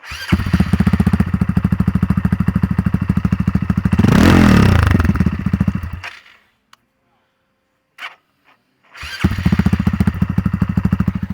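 A Honda Monkey motorcycle engine enlarged to almost 200cc cranks and fires, running with a loud, rapid putter and a revving surge before cutting out; after a pause it restarts and idles.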